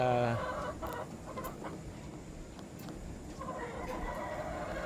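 A Raptor sweater gamefowl rooster in a breeding pen clucks and calls in short, spaced bursts at moderate distance, with a louder call at the very start and more activity toward the end, over steady farm background noise.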